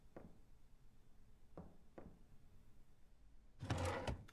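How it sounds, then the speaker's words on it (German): A drawer in the horror game The Mortuary Assistant gives a few faint, separate knocks and then a louder, brief sliding rattle as it opens, heard alone in a quiet scene. "Oh, wieder Schubladenöffner."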